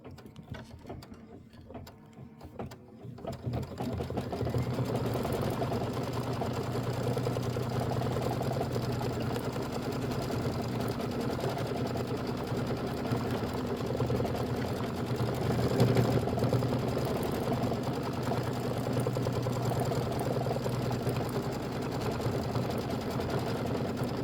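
An embroidery machine stitches the tack-down on a Kimberbell mini quilt block, a steady close mechanical hum and rapid rattle that starts after a few quiet seconds and runs on unbroken without talk.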